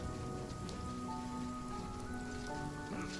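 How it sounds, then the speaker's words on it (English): Steady rain falling in the game Runescape Dragonwilds, a soft continuous hiss of drops over a low ambient hum, faint and without talk. "It's raining where I am."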